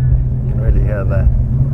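The engines of a CRJ900 airliner roar in reverse thrust just after landing at Amsterdam Schiphol, a loud, continuous low rumble heard from inside the cabin, with a faint voice over it.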